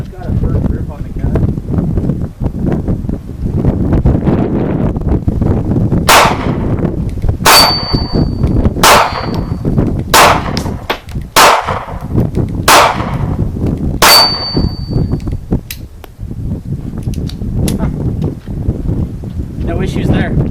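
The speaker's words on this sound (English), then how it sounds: "We're just going to shoot all 50 rounds." A Kel-Tec P3AT pistol fires about seven sharp, evenly spaced shots at an outdoor range, each with a short ringing crack, amid wind buffeting and someone talking.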